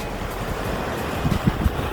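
Rough open-sea waves breaking behind Paphos Castle in Cyprus, a steady wash of surf mixed with wind noise, with a few heavier low thumps of waves hitting near the end; no talking.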